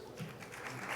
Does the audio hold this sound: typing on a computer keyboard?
no